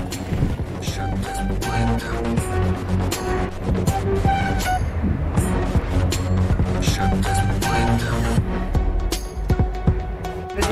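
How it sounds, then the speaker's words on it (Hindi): A train rumbles steadily past in Bishkek, Kyrgyzstan, with continuous mechanical clatter and droning tones, close and fairly loud throughout. "ये किर्गिस्तान की ट्रेन है, ये ट्रेन का भी आप देख सकते हैं"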